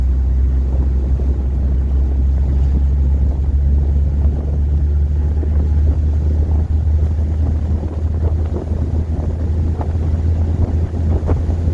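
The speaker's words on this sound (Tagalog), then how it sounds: "Lakas ng hangin, oh." Strong wind buffets the microphone with a steady, loud low roar on a rocking boat, while water and the boat's hum churn underneath throughout.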